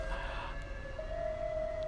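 Emergency vehicle siren on a Brooklyn street, a steady wailing tone that rises and holds, fairly distant and quiet over constant city traffic rumble.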